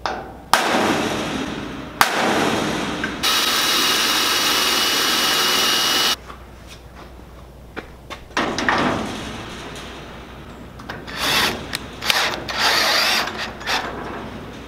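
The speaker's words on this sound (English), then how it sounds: "So I'm gonna go ahead and shoot that screw in" A power tool drives a self-tapping screw into a rack on an open lawn care trailer, with a sustained loud whirring burst, sharp metallic clanks and knocks, then quieter intermittent rattles and bangs of hardware being handled nearby.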